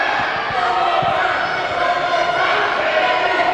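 A wrestling crowd at a WidowFest 2023 match chanting and roaring: a dense, loud, continuous wall of voices filling the arena without a break.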